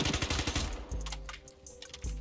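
PP90M1 submachine gun firing in the video game Ironsight, a few quick bursts of loud, close shots with rapid sharp reports and short gaps between them.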